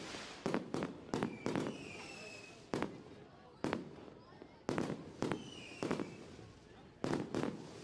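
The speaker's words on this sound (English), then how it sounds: "And we got a lot of fireworks." Fireworks burst over a dirt race track after a late model feature, a rapid string of sharp booming cracks spaced irregularly, fairly distant and echoing over a low crowd murmur.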